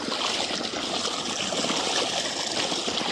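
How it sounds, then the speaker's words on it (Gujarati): Water gushes steadily from a motor-pumped well pipe on a farm, a close, continuous splashing flow that stays loud and even throughout with no talking. "પાણી થઈ ગયું ચાલુ"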